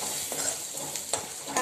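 Green peas sautéed with hing and turmeric in a pan make a brisk frying hiss, broken by a few quick stirring scrapes at close range, with no talking.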